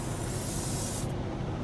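A hand sprayer lets out a continuous close, loud hiss of spray that cuts off sharply partway through, followed by a softer lingering rush.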